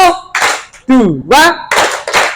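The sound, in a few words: children clapping in a counting clap game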